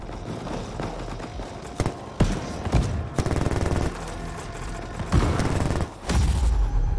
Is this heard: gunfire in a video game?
yes